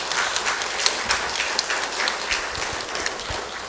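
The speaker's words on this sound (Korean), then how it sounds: "다시 한번 수고하셨다고 감사하다고 박수하시기 바랍니다." A church congregation applauds during a Sunday morning service at a Methodist church, steady dense clapping that fills the room evenly and stays moderately loud throughout, with no speech over it.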